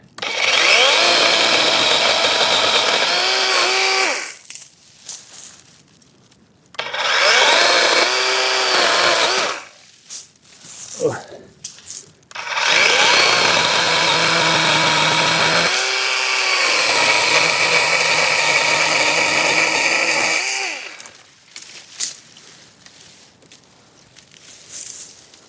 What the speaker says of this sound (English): I've got an old steel chainsaw.